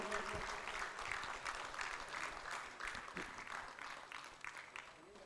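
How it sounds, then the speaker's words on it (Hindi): Applause from an audience at the opening ceremony of Netrakumbh 2021 in Haridwar, a dense wash of clapping lasting the whole stretch at steady loudness, with a few voices faintly mixed in. "एक बार तालियों से पूरा मंच गुंजायमान होना चाहिए"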